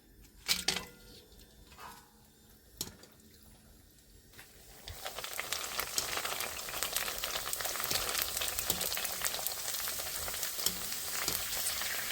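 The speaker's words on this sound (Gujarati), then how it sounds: "તેલ આવી ગયો છે હવે પૂરી નાખી દઈએ" Puris for pani puri drop into hot oil. After a few quiet seconds with faint clatter, a loud, dense frying hiss erupts and holds steady close by.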